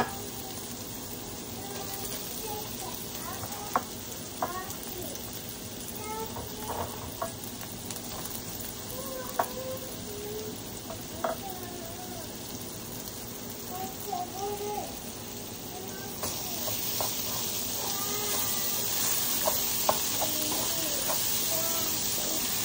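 Mashed banana frying with browned onion in a pan for banana bharta, a steady sizzle and hiss with occasional stirring scrapes, under faint background voices.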